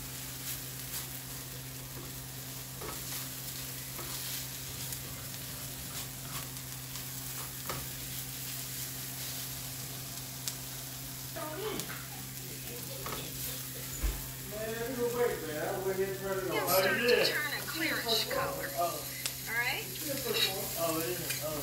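Onions frying in a pan for shrimp and chicken fried rice until nearly translucent, a steady close sizzle with scraping and stirring that gets busier toward the end, and a voice talks briefly in the background.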